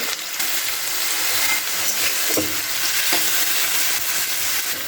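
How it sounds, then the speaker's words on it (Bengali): Potato pieces fry in hot oil tempered with black cumin, giving a dense, continuous sizzle with occasional spatula scrapes as they are turned. "এটাকে আমি একদম লাল করে ভেজে নেবো আলুটাকে"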